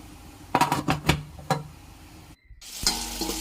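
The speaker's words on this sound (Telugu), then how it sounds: "పోపులన్నీ వేగిన తర్వాత ఉల్లిపాయలు పచ్చిమిరపకాయలు వేగిన తర్వాత చట్నీ అటు పడుతుంది." Tempering spices, onions and green chillies frying in oil for tomato chutney, a few sharp crackles and pops, then a short silence and a burst of loud sizzling as more goes into the pan.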